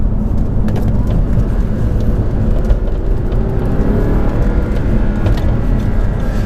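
An Audi R8 fitted with high-flow air filters accelerates through the gears, its engine a loud, sustained close-up drone with road noise and no talking.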